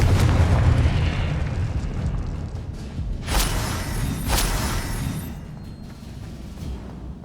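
Two sharp, loud blasts from the Confringo fire spell in Hogwarts Legacy burst about a second apart over a dense, rumbling battle-noise bed.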